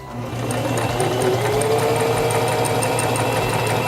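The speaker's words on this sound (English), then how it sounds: "Release the reverse lever and sew along your seam." A Singer Talent 3323 portable sewing machine stitching along a seam, its motor starting up and then running in a loud, steady, rapid mechanical whir close by, with no talking.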